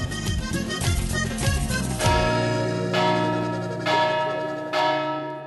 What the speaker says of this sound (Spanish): ¿Por quién doblan las campanas ahora?